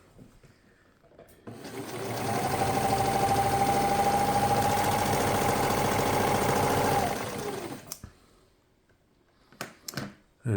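A serger sewing machine runs a stitching test with the lower looper tension set very low, a steady fast mechanical whirring hum lasting about six seconds, followed by a few handling clicks and taps.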